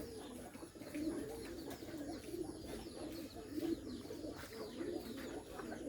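Bombay pigeons coo softly and repeatedly, low rounded calls recurring about once a second, with faint chirps and light background noise.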